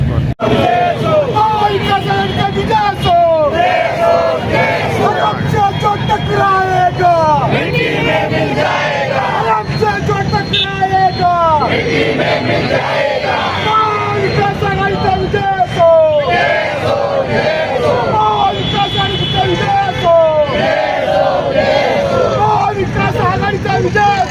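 A crowd of supporters cheers and shouts at a political gathering of opposition leaders, with loud chanting and excited overlapping voices filling the scene close by and persisting throughout.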